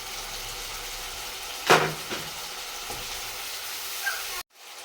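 Shrimp dropped into hot spiced oil for a drumstick curry: a sudden sharp sizzle burst flares up, then settles into a softer, steady frying hiss with small crackles, fairly quiet overall.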